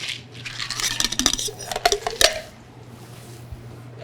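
Soda fizzes in a bourbon or rye whiskey cocktail at a smokehouse bar, a crackling patter of bubbles and light glassy clinks that grows busier and then settles into a faint hiss over a low background hum.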